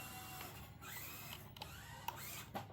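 A small electric motor in an FMS FCX24M mini RC crawler whirs faintly in high gear, a thin mechanical whine with a few light clicks and shifts in pitch.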